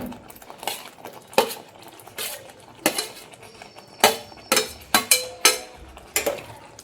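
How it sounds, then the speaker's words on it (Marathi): A spoon scrapes and clanks against a pan as fried soybeans are stirred into masala, irregular metallic knocks and scrapes in quick bursts, close and fairly loud. "तर आपण हे मसाल्यामध्ये चांगलं असं सगळं हे मिक्स करून घेऊया."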